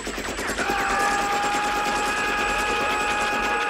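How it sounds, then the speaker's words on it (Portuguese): Rapid, continuous machine gun fire from an action-film sound effect, loud and dense, rattling steadily for several seconds with no voices. "com uma metralhadora atirando todo mundo"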